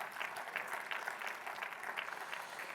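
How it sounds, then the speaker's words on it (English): A forum audience at a small business finance closing plenary claps together, a brief burst of dense, even applause from a crowd, steady and fairly near. "Please join me in giving a round of applause for our event partners at Linder Global"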